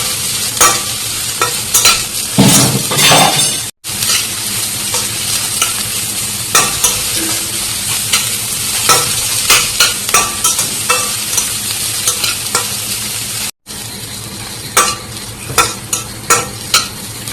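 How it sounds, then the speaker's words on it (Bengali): Chopped onions sizzle in hot oil after garlic in a pan, with a spoon repeatedly scraping and stirring in steady strokes, loud and close, with no talking; the cooking is for a mashed pumpkin-leaf bhorta. "এখন পেঁয়াজটাও ভালোভাবে একটু ভেজে নেব।"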